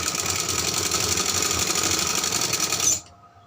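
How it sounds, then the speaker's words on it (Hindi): A sewing machine runs a fast, steady stitching buzz while sewing a baby frock, then stops abruptly near the end, leaving quiet. "इसी तरह से हमने इसको पूरा करके सिलाई लगा लेनी है"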